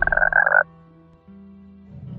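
Two bursts of loud, rhythmic frog croaking from the video game Paw Patrol Tracker Jungle Rescue, the first fast and raspy, followed by a softer, lower croak after a brief pause.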